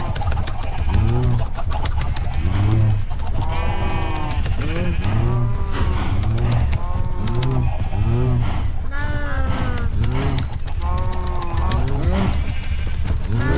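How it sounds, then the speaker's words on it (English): Cows in the Minecraft video game moo repeatedly. The short, pitched calls come one after another in a steady rhythm, loud and close, with no talking. "Let's get the cows fattened up a little bit."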